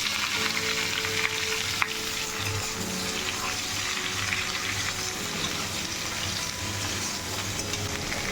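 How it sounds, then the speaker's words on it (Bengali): Bay leaf, dried chilli and radhuni crackle in hot oil in a wok, a dense continuous sizzle that stays loud and even for over eight seconds with no talking. "আমি এখানে কড়াই আবার একটু তেল দিয়ে দিলাম আর এখানে রাঁধুনি তেজপাতা শুকনো লঙ্কা ফোড়ন দিয়ে নিই"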